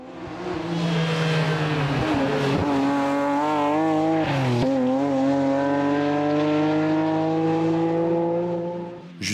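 A BMW M3 E36 race car at a Chamrousse hill climb, its engine screaming loud and close through rising gears, with two brief shift dips before the revs climb steadily and hold high.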